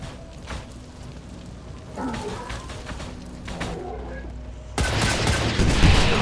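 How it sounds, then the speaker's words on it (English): Rocket bombardment in XCOM 2 hitting a group of Lost, heard as a run of dull thuds and rumbling blasts that builds into a loud, dense barrage of explosions near the end. "once again, the Lost get bombarded by some rockets"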